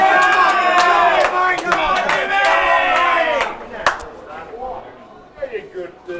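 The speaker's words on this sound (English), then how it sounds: "All the cheering you're hearing is for James Delahanty over Mick Hill." A crowd at a women's pool semi-final match cheers and shouts loudly and continuously for several seconds with sharp claps and whoops, then the noise tapers into scattered voices and fading applause.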